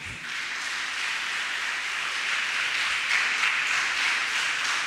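Congregation applauding loudly at a Catholic thanksgiving Mass for a school graduating class, a dense, steady burst of clapping filling the church throughout, with no talking over it.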